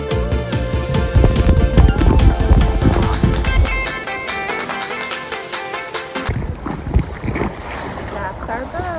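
A tour boat out on the water near Phuket's islands, with a loud, continuous engine drone and rushing water, buffeted by wind noise that shifts partway through.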